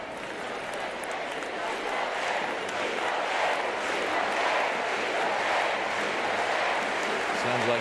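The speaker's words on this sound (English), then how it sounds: "it's satisfying this hungry home crowd" A hungry home crowd roars at the Paris 2024 Paralympic athletics stadium, a loud unbroken wash of cheering that swells gently, with a commentator's voice running over it.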